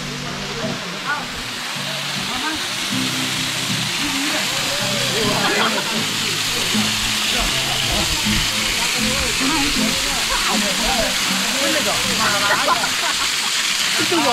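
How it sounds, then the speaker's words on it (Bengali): Richang waterfall in the hills of Khagrachari roars as a steady broadband rush of falling water, with someone talking over it. "এটাই হচ্ছে রিচাং ঝর্ণা।"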